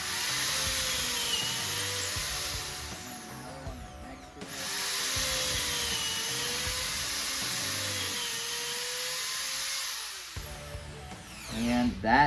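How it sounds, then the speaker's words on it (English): A Ryobi 5.5 amp 3/8-inch corded drill driver whines steadily at high speed while boring a hole, running in two long close bursts with a brief stop between them, then winding down, with little talk. "And I'm going to go ahead and drill a hole with this."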